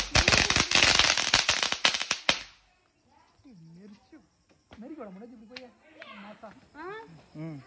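A rapid burst of loud Diwali firecracker bangs in a village, several going off together, crackles for a couple of seconds, then stops abruptly as people start talking.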